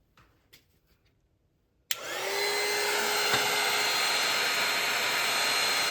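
A hair dryer blows steadily on a watercolor seascape bookmark painting, switching on abruptly after a few quiet seconds and running loud and continuous to the end.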